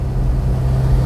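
A patrol car carrying military observers along the Blue Line in Lebanon drives with a steady, loud low engine rumble filling the brief moment.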